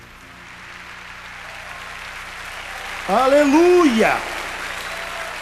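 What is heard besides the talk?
congregation applause at revival conference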